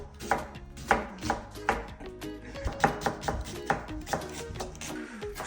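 Onions being chopped on a board for Malabar chicken curry, with a steady run of close, crisp knife strokes at a quick, even rhythm, one after another, and no talking.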